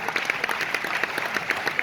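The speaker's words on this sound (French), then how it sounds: "applaudissez Cléo" Applause from an audience at a Roubaix event, a dense steady wash of many hands clapping at a moderate level for about two seconds, with no voices standing out.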